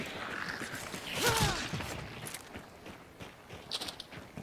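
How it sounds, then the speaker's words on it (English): Running footsteps in the Hunt: Showdown video game: quick, soft thuds from a few strides, moderately close, mixed with other game sounds, including a brief louder burst near the middle. "I hear running"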